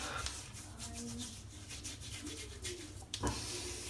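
Menthol Head Slick shaving cream rubbed by hand over a head, a soft continuous close-up rubbing and smearing texture with faint squelches, steady throughout and louder near the end.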